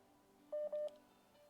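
A live call-in line drops during a prayer meeting broadcast, leaving two quick, faint electronic beep tones alone against quiet background hiss.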